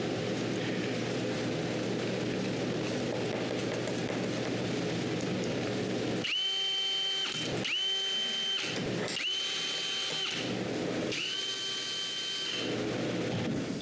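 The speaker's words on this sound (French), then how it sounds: "Ensuite, je peux les visser." Power drill driving screws to fasten casters onto a wooden board for a convertible dresser, four separate bursts of whirring with brief pauses between them, close and loud over a steady background hum.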